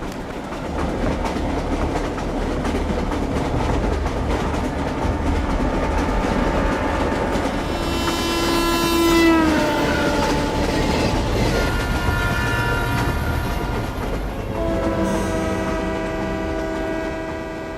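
A train pulling into a station, with continuous rumbling and clickety-clack of rail cars and wheels, a horn sounding partway through, loud and steady throughout.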